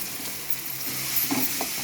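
Kothu parotta frying in a pan with a handful of curry leaves added, a soft close sizzle with light stirring scrapes and a few brighter crackles near the end, quiet and without speech.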